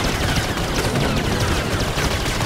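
Dense, rapid gunfire in Star Wars Jedi: Fallen Order, a continuous crackling volley of shots at steady loudness with no pause.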